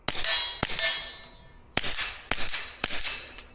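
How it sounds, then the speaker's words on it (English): Suppressed Smith & Wesson Victory pistol with a Tandemkross Comet barrel firing supersonic ammunition outdoors in woods, heard at the shooter's ear: five sharp, loud cracks with ringing tails, spaced irregularly about half a second to a second apart, with no talk. "let's go ahead and shoot it a little bit with the head cam here to give you an idea of what it sounds like at the shooter's ear here"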